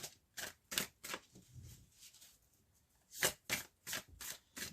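Tarot-style cards being shuffled at close range, a series of crisp riffling bursts in two clusters separated by a quieter pause, with no talking over them.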